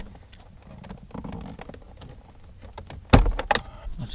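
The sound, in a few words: removing clips from a Lexus IS F instrument cluster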